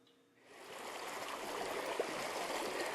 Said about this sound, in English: This is a fast moving river.